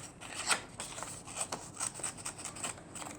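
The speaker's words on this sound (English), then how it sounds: "so get your scissors then and start cutting" Scissors cut through a paper plate in short repeated snips, close and quiet, each blade closure giving a soft crisp rasp in an uneven rhythm.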